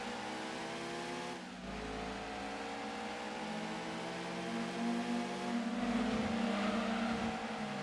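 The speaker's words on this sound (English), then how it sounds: "Wow, this car sounds completely different." A modified racing car's engine in Gran Turismo 2 drones steadily at high revs, rising in pitch and intensity with a brief dip and recovery, loud and continuous with no talk.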